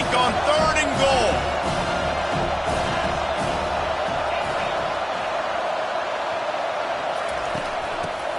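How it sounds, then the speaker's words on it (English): A home crowd roars steadily at a football game on third and goal, a dense, loud wall of cheering that swells at the start and stays sustained throughout, with commentary voices talking over it. "Man, this crowd really affecting the football."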